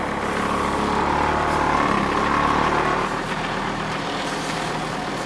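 A Mercedes engine idles roughly on worn engine mounts, a loud, steady low rumble with rattling vibration that runs throughout and drops slightly in the latter half.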